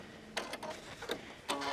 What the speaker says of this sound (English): Then we put our foot down and we start sewing.